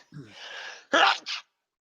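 Two sharp sneezes in quick succession, close and loud, the first a burst followed by a shorter second one, after a brief breathy intake.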